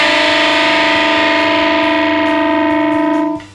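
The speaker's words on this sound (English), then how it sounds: "But when playing the unison bends, if you're not playing them in good pitch," Distorted electric guitar holding sustained unison bends slightly out of tune, a steady buzzing drone lasting about three seconds with effects-laden tone, alone and cut off abruptly at the end.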